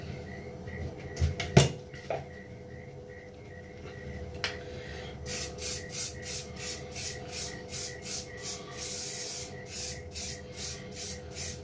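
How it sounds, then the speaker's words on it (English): Hairspray from an aerosol can is sprayed onto a styled Teddy Boy quiff in a rapid run of short, bright hissing bursts, about a dozen evenly spaced puffs that follow some soft rubbing and handling noises. "Hairspray."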